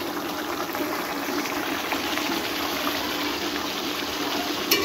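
Beef curry gravy boils down in a pot on the stove, a steady close bubbling and simmering hiss that stays even throughout with no voices.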